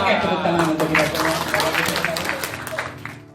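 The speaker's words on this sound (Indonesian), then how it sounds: "Oke, tepuk tangan untuk kita semua." An audience at a health training session claps in a loose, busy patter that swells and then fades, close by with a voice speaking over it.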